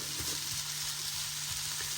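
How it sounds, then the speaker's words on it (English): Steady crackling sizzle of sautéed potatoes with bacon and onion frying in a pan, a continuous hiss with soft popping, close up and with no talking. "these are frying up nice"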